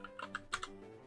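Quick taps on a computer keyboard, about half a dozen soft clicks in a short irregular burst, faint and close.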